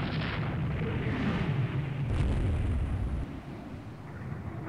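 Battleship guns firing in the naval game Rule the Waves 2, a dense continuous rumble of heavy booming broadsides, sustained and loud with a slight drop near the end.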